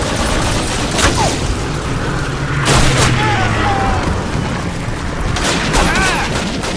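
Gunfire cracks and bullets punch into walls during a Call of Duty 1 battle, arriving as several loud, sharp bursts spread over the scene, with a voice talking among them.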